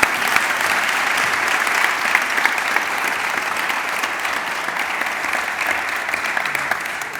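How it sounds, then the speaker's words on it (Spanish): A forum audience breaks into sustained applause, dense steady clapping from a large crowd filling the room evenly without pause. "Un aplauso, yo creo que merece."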